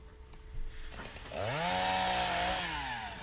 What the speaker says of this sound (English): This being close to the chainsaw is good. Helps desensitize them to the noise, and here he's cutting some brush here